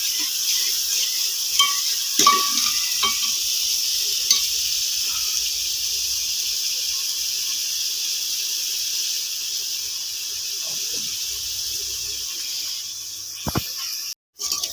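Onions frying until golden brown for a desi-style spinach bhurji give a steady, even sizzling hiss, with occasional soft clicks and taps of stirring.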